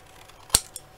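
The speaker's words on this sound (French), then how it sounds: "Allez, on coupe." One sharp scissor snip cuts through material during light-box studio assembly, followed by a fainter click, with no talk.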